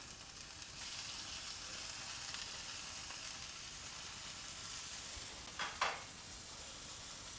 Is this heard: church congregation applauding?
no